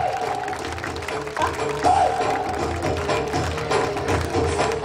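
Applause from the audience at a science award ceremony hall, moderately loud and sustained, mixed with a low background hum and some indistinct crowd noise.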